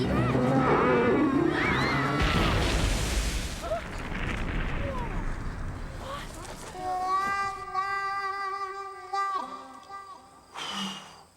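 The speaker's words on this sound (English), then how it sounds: "you've got like an explosion, a gun, and like a werewolf-type creature in the first minute" An explosion, a gunshot and a roaring werewolf-like creature open a Goosebumps episode set at a summer camp. A loud, dense burst of blasts and growls gives way to sustained tonal music, with a final sharp hit near the end.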